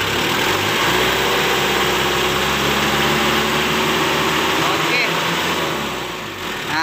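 A car engine in an Indonesian workshop runs loud and steady through an oil pressure test, held at a constant drone throughout and easing slightly near the end rather than showing a sharp rev climb.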